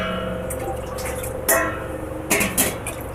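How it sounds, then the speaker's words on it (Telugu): Water poured into a pot at home for sugar syrup, a few clinks and splashy bursts of pouring standing out over a steady hiss, fairly close, with no talking. "4 glasses of వాటర్ తీసుకున్నాను"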